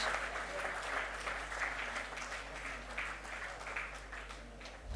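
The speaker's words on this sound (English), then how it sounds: "please give a big round of applause for the dignitaries present here on the stage" Steady audience applause at a corporate event, a dense wash of clapping hands holding an even level throughout, fairly distant and somewhat quiet, with no talk over it.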